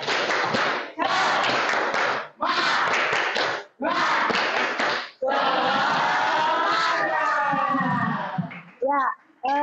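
Pupils in a classroom do a tepuk semangat cheer, four loud bursts of rapid group clapping with brief gaps, then a drawn-out shouted chant from many voices and a few closing claps.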